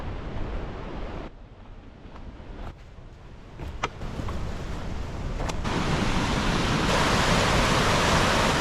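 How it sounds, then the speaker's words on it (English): Fast-flowing river rushing with heavy water volume near a waterfall along a trail, a steady broadband roar that swells louder and brighter in the second half, with no talking. "Pretty incredible how fast this river is moving. There's a lot of water going down through that."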